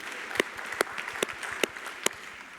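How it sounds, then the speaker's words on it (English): Scattered applause from a thinned-out afternoon audience at a business debate, quiet with a few sharp, evenly spaced claps standing out over soft background patter. "Can I ask for some big applause to the audience that is still with us at 5 p.m."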